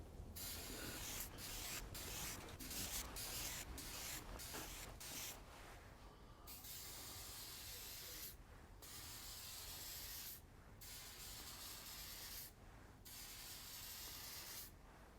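An aerosol can that is nearly empty sprays a coat of mold release, giving a loud, steady hiss broken by short pauses between bursts.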